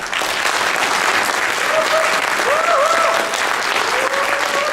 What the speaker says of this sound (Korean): 성공과 격려의 박수를 다시 한번 부탁드립니다